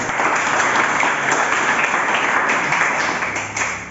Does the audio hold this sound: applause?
yes